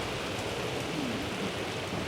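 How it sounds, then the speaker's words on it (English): Steady rain falls in Tiruvannamalai, India, a soft even hiss of drops that holds for the whole moment with no voices over it. "Raining."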